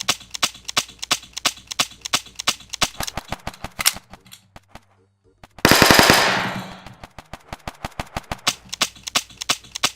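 Machine gun fire in the video game Zomclave rattles in rapid loud bursts, pauses into near silence, resumes with a sharp noisy blast, then keeps up steady repeated shots, with no talk.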